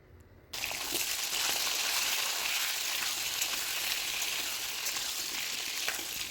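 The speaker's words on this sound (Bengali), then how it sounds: "এখন ওই তেলের মধ্যে দিয়ে দেব কেটে রাখা আলু।" Cut potatoes dropped into hot oil that had been frying rohu fish burst into a loud, steady hiss after a brief quiet start, continuing evenly up close.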